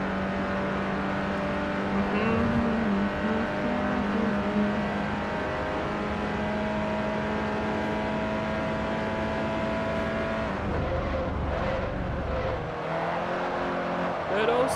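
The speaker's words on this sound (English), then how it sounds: "The LFA Scuderia. Nice. Vroom vroom." Lexus LFA Scuderia engine in Forza Motorsport 4 revving loudly and steadily with a sustained harmonic drone, shifting pitch near the end; a voice talks over part of it.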